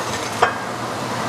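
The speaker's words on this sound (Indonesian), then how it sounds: "Lanjut akan aku menggoreng tempe." Homemade frozen tempeh frying in hot oil makes a steady, close sizzle throughout, with a brief clink of a utensil near the start.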